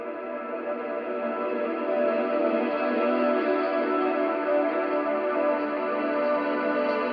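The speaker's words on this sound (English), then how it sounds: "I also have reverse guitar, like reverse delay, reverse reverb sort of sounds" Reversed electric guitar swelling through reverse delay and reverse reverb, forming a continuous shimmering ambient wash of layered sustained tones, steady and fairly loud with no attack transients.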